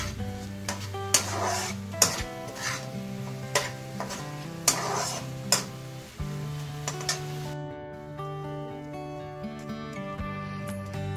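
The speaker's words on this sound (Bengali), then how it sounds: "এরপরে আলুর সাথে এই মশলাটাকে খুব ভালো করে আমি কষিয়ে নেব মিনিট 7-8 সময় ধরে।" Potatoes cook down with a spice masala in a pan for ghugni, a dense, even sizzle broken by repeated scraping strokes and metallic clinks of a spatula, the frying noise dropping away near the end, no talking.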